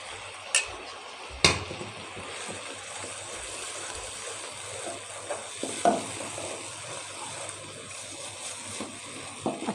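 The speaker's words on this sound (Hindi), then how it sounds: "अच्छा सा मसाला भून लें।" Masala fries with curd in a hot pan, giving a soft steady sizzle with a few sharp clicks and taps of a spoon stirring and scraping. Quiet and close, with no talk.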